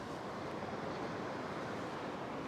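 Ocean surge rolls onto a beach, a steady, broad wash of surf and wind noise that stays loud and constant with no talking.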